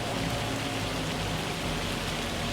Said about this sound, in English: so we've got the rain coming